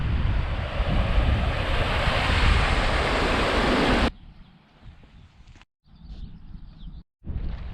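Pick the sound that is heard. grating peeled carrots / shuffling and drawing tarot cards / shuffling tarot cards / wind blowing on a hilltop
wind blowing on a hilltop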